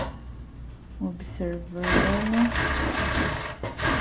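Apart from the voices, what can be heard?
sewing machine stitching swimsuit lining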